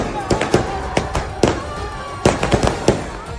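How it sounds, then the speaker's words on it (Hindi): Fireworks set off in the middle of a street in Lahore during a rally for Nawaz Sharif crackle and pop close by. Sharp bursts come in irregular clusters over a steady background din. "बीच सड़क पर आतिशबाजी कर दी।"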